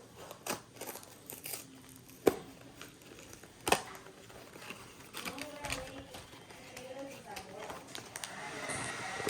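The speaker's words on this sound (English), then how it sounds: "Sorry about the noise. My grandma's blow drying her hair." A hair dryer blows in the background of a quiet room, a faint steady whoosh broken by a few sharp clicks and rustles nearby.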